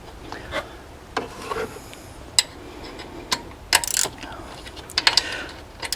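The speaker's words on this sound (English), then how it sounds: "Got us a little ratchet wrench here, gear wrench." A small GearWrench ratchet wrench tightens bolts into aluminum on a Suburban, giving scattered light clicking and ratcheting bursts with metallic taps, fairly close and intermittent.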